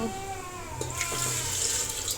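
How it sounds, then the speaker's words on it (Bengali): Water is poured from a container into a cooking pan holding spices, a short close splash and trickle lasting about two seconds. "পানি দিয়ে দিতেছি"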